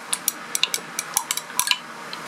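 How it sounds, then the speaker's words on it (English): A chemical solution is stirred in a glass beaker, giving a series of light, bright clinks and taps of the stirrer against the glass, irregular and close, about a dozen over two seconds. "So I'm going to stir this for a little bit longer"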